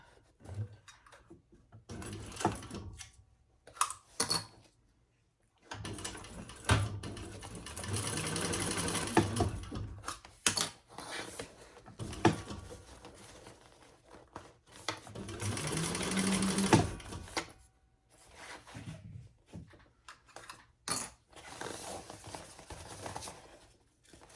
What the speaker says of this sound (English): So we're going to sew this at the seam allowance in the pattern.